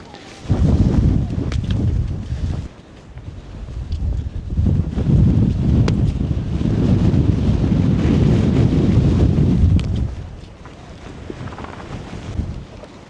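Strong wind buffets the microphone on the Slieve Gullion summit in loud, rumbling gusts. The gusts rise and fall in waves, ease briefly, then return before dropping toward the end.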